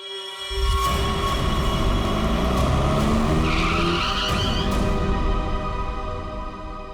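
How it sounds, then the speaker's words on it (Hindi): A car braking hard to a stop in the middle of a road, a loud sustained screeching skid of tyres over engine rumble, tapering off toward the end. "बीच सड़क में गाड़ी क्यों रोक दी?"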